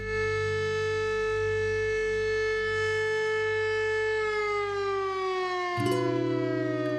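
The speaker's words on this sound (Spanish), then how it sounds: "La sirena marca el mediodía en este pueblo gentil y tranquilo." Civil defense siren in the quiet town of Putaendo, in the Aconcagua Valley of Chile, sounding midday: a loud, sustained harmonic wail holding steady, then sliding downward in pitch with a low rumble entering near the end.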